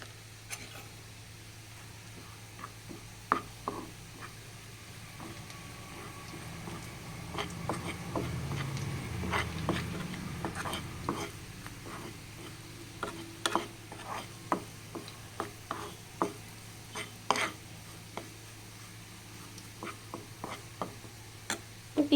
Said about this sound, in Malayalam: ഇതെല്ലാം കൂടി നന്നായിട്ടൊന്ന് മിക്സ് ചെയ്യാം.